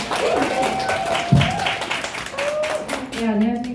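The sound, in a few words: audience clapping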